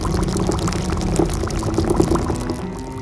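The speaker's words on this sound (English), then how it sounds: "the porridge began to bubble and sigh" Thick porridge bubbles in a pot over a wood fire, a dense steady stream of close, wet popping and gurgling without pause.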